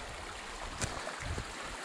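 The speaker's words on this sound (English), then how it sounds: "creek crossing" A creek flows steadily at a trail crossing, with a continuous close rushing and burbling wash of water and a few faint knocks.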